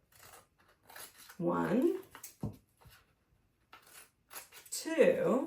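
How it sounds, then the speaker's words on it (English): Scissors snipping paper folded into quarter-note shapes, a few short crisp cuts between bursts of a person speaking nearby. "I'm going to cut 1, 2, 3 lines here so that I end up with all of those being separated."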